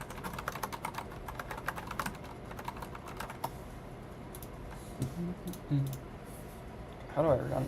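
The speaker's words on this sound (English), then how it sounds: "just keyboard test" Fingers type on a computer keyboard in quick, uneven bursts of close clicks, fading into scattered taps, with a voice speaking briefly near the end.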